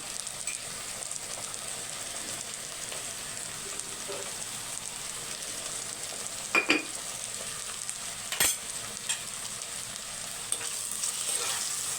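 Ginger garlic paste and tomatoes sautéing in a pan for an egg vermicelli beetroot pulao, a low steady sizzle with occasional sharp stirring clinks and scrapes, no voices.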